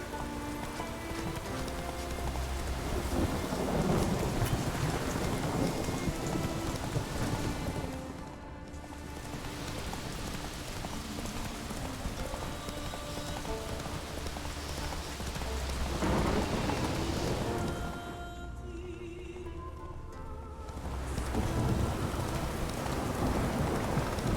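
Heavy rain pours steadily in The Witcher 3, with rolling thunder rumbling through the storm; the downpour swells and eases in waves and stays loud throughout.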